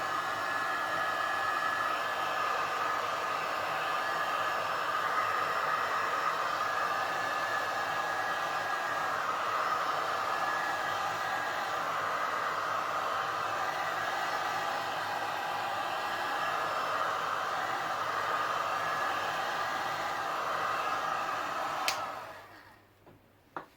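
A heat embossing gun blows a continuous, loud, steady hiss while drying a mixed media craft project, running for about twenty seconds before cutting off abruptly into near silence.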